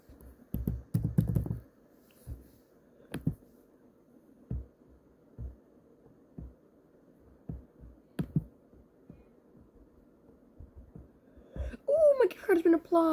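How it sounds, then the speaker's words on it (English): Someone types a gift card PIN on a computer keyboard, giving sparse, uneven keystroke clicks with pauses between them. A voice speaks briefly at the end. "now I'm gonna type in the pin"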